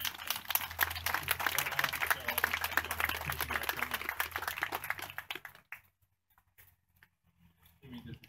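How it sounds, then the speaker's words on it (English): Crowd applause for a regional police department at an evening Ride of Silence memorial gathering, steady dense clapping for about five seconds, then fading to near silence with a faint sound returning at the end. "I just want to give another round of applause for the Regional Police Department."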